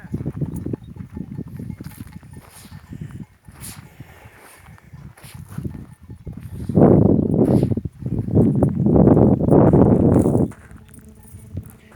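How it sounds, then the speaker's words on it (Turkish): A herd of goats walks away, hooves clattering and scuffing in loose bursts, growing loud and dense for a few seconds near the end before fading. "Bak, keçiler gitti."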